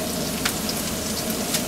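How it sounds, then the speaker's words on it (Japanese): Oyaki browning in a frying pan give off a steady, close sizzle, with a few brief pops over a continuous hiss and no one talking. "表面に軽く焼き目をつけていきます。"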